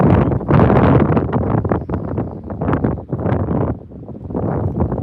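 Strong wind buffets an outdoor microphone on a bass fishing outing, roaring in loud, uneven gusts that swell and dip throughout with no talk.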